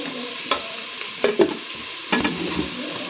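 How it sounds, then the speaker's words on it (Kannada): Onions fry in a pan, a soft sizzle punctuated by three or four distinct scraping stirs from a spoon, close by and brief, with no voices. "ಚೆನ್ನಾಗಿ ಈರುಳ್ಳಿ ಫ್ರೈ ಮಾಡ್ಕೋಬೇಕು"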